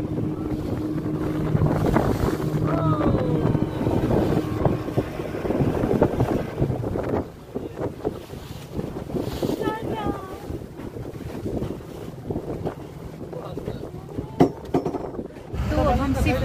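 Strong sea waves slosh around a boat as gusty wind buffets the microphone, a continuous rough rush of water and wind with people talking over it.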